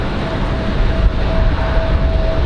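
A Delta Airlines Boeing 717 from Detroit on final approach to Raleigh-Durham gives a loud, steady jet rumble with a faint engine whine, mixed with gusty wind noise.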